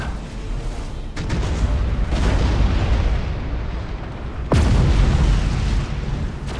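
Imperial ship blowing apart in the space strategy game Battlefleet Gothic Armada 2: loud rumbling booms roll on continuously, with a heavy new blast hitting partway through, and no one talking.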